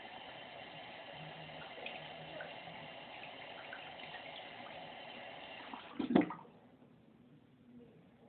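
Water runs steadily from a tap for about six seconds, then is abruptly shut off with a brief clunk, leaving a quiet room afterward. No one speaks.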